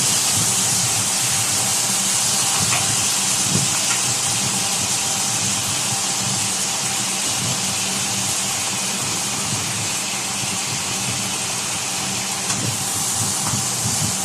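Pieces of papaya and raw banana fry in hot oil with a loud, continuous, close sizzle and hiss that stays even throughout, with faint crackles and no speech.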